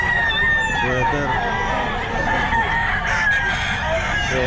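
Sweater breed gamefowl roosters crow loudly and repeatedly at the Bocaue pet market, overlapping calls with clucking over a busy background as people talk nearby.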